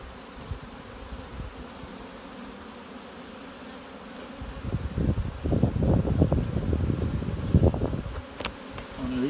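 Honey bees swarming around hives fitted with honey supers, a low buzzing drone that swells from faint to loud about halfway through, with wind rumbling behind it.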